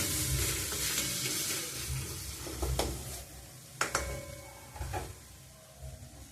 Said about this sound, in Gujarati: બરાબર મિક્સ કરી દઈએ.